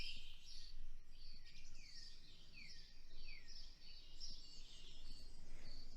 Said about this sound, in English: You still hear the birds, the wind rustling the leaves of the trees